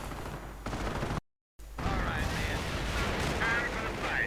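In a World War II strategy game, rifle, heavy machine gun and mortar fire make a dense, continuous barrage of rapid shots and booms. A brief silent gap breaks it, and a commentator talks over the battle.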